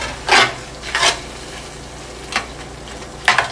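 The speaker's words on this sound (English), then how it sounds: "So we're just going to let this simmer." Food simmers in a pan on the stove under a low, steady hiss, broken by four brief scraping stirs of a utensil against the pan. No one speaks.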